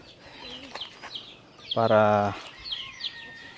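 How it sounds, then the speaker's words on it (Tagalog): Inside a chicken coop, hens cluck and coo in short scattered bursts, with one louder, longer call in the middle, while a person talks quietly nearby. "papasok tayo rito sa kulungan ng mga manok"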